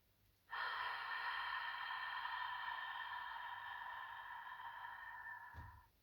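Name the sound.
long hissing breath exhaled through open mouth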